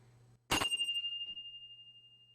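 A small metal finish bell at a sewing retreat is struck once, a sharp bright ding that rings on as a sustained clear tone, slowly fading over a couple of seconds against a quiet room hum.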